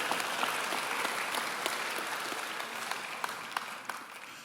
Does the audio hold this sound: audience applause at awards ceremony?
yes